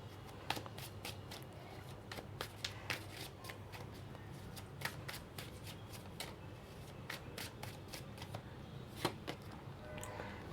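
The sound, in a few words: shuffling tarot cards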